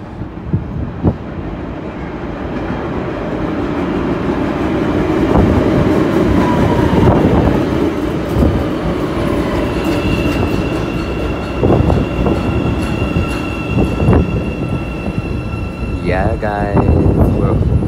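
A Chicago train rumbles past and slows to a stop, with clattering wheels, rising squeals and brake hiss near the end, loud and close, while people talk over it.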